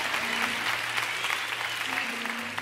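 A church congregation claps along in a steady, continuous wash of hand claps, with sustained keyboard tones and faint voices mixed underneath.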